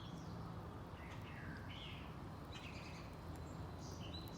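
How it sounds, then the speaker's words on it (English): Faint birds chirp and twitter at a distance over a steady background hiss. "I think the birds are having a wonderful time today."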